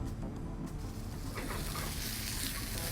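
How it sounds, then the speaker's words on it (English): Tomatoes are quickly sautéed in a hot pan by a chef, producing a continuous close sizzle with stirring rustle and brief spatters, no talking over it. "we'll take our tomatoes and just quick saute them right in here"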